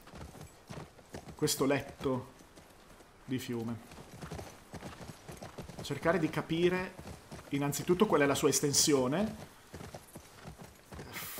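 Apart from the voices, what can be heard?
horse hooves clip-clopping in a video game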